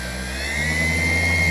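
A machine polisher on its fastest speed setting buffs the paint of an FJ Cruiser, giving a loud, steady, close whine with a continuous drone beneath it and no pauses.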